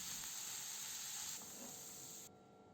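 Vegetables with pickled cucumber frying in a pan give a steady, quiet sizzling hiss that softens partway through and drops lower near the end.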